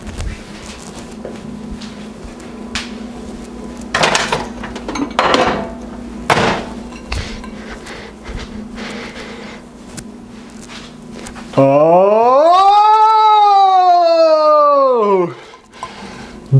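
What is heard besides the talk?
microwave plate and dishes handled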